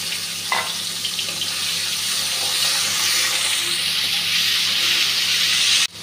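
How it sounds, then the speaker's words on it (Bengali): Chandana dry fish (shutki) frying in hot oil in a pan, a loud, steady hiss and sizzle that fills the whole stretch close up, with no speech, and cuts off abruptly at the end. "এখন শুকনো মাছটা ভাজতে দিয়ে দিচ্ছি।"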